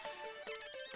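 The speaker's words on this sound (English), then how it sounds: "that's the sound of cyborgs." Cyborg enemies in the video game System Shock give off an eerie, tonal electronic warble with wavering pitch, a short, faint burst with no voices.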